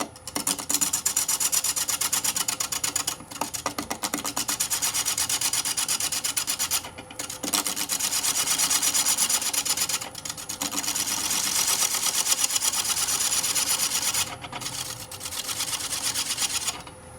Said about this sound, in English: just true up the bottom here a little bit more with the bowl gouge